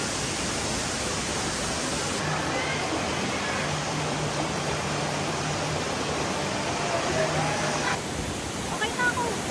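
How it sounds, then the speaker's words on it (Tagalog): Bulawan Falls in Aurora, Philippines, a dense steady roar of falling water filling the air, loud and continuous, with voices faintly audible beneath it. "maganda dito sa Bulawan Falls"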